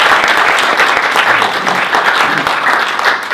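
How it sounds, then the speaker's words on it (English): Steady, full applause from an audience at a network marketing business event, loud and continuous for the whole stretch with no voices over it. "Let's give her a round of applause again."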